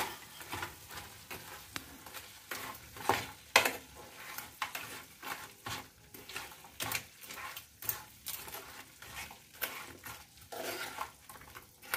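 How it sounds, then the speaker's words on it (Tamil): Crab masala gravy being stirred in a pan right after coriander leaves are added, with a steady scrape and clatter of the spoon against the pan over a soft sizzle, at a close, moderate level. "இப்ப நம்ம கொத்தமல்லி கம்பளிக்கீரை ஆட் பண்ணி நல்லா mix பண்ணி விட்டுடலாம்"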